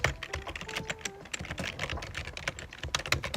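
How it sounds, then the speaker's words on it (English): Slow typing on a computer keyboard: irregular, close-up key clicks tapping at an unhurried pace, alone without talk. "I'm typing slow."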